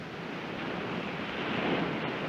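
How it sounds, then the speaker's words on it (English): Steady, broad ocean surf washing continuously, a dense roar of waves with wind noise on the microphone, swelling slightly toward the end, no voices. "You like the sound of the ocean?"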